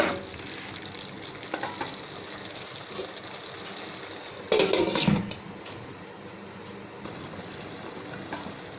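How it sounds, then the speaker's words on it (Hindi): Aloo gobi of potatoes and cauliflower simmers in a gravy in a pan, a soft, steady bubbling sizzle with a brief louder stir or clatter midway, close and fairly quiet, with no voices. "सब्जी इस ग्रेवी में अभी पक रही है"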